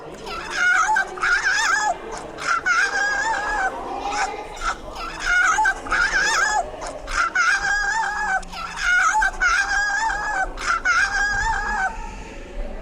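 A female koala rejecting a male: a series of high, nasal squawking calls repeated in bursts, loud and close, with short pauses between each cry.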